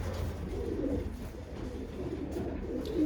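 A recessive red racing pigeon hen coos softly in low, murmuring bursts against faint background noise, with no talking.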